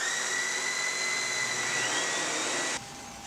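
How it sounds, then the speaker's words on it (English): A SEBO Felix Kombi vacuum cleaner runs with a loud, steady high-pitched whine and airy rush, then the tone drops abruptly near the end as the suction is turned down. "One of the most convenient features of this vacuum is that suction control is on the handle."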